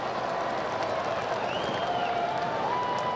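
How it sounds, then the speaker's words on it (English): Crowd at a Yankees versus Royals baseball game applauding a defensive play, a steady wash of distant clapping and murmur filling the stadium, moderately faint and sustained. "And the crowd acknowledging it."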